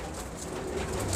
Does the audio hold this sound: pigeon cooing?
yes